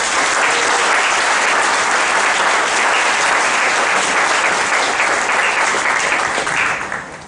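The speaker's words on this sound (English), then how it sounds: "give them a very big applause" A school annual day audience gives students a big round of applause, dense and loud steady clapping throughout that begins to fade right at the end.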